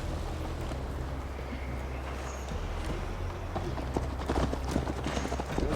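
Horse hooves clip-clop steadily while riding in Assassin's Creed Valhalla, a continuous near trot over a low rumbling bed of game ambience, with no talk.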